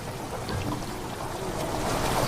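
Steady broadband rush of water pouring into a chamber in a video game, a continuous washing roar like surf that holds level throughout with no talking.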